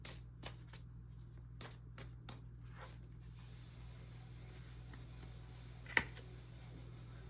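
Tarot cards shuffled and drawn during a Pisces reading: a run of crisp, close riffles and flicks in quick bursts, then quieter handling over a faint steady hum, with one sharp tap near the end.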